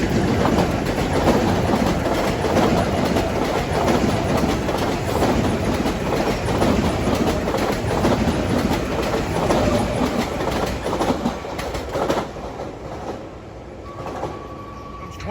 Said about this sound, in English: That train has M9s with 9071 as the lead car